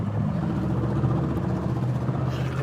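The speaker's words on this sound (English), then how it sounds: "This green car drives by me." A green car drives past on a city street, a steady loud rumble of engine and tires holding close throughout with no voices.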